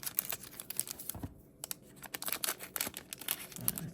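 Scissors snipping open a foil sports card pack, with a rapid series of close, sharp clicks and crinkly cuts and a short pause partway through.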